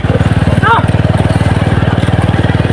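A motorcycle engine runs close by with a steady, rapid low thrumming pulse, and a brief voice cuts in partway through.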